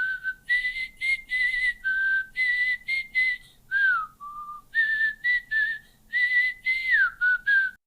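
A person whistles a lively, rising-and-falling tune in short clear phrases with brief pauses between them, clean and close with no talking.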